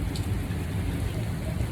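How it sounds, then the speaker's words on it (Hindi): Heavy rain pours outside, a dense, steady hiss with a low rumble underneath, continuous and fairly loud throughout. "बाहर बहुत ज़्यादा बारिश हो रही है"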